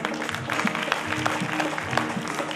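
An audience claps during a spoken storytelling event, with scattered hand claps forming an uneven patter over a low background murmur, moderately quiet and continuous.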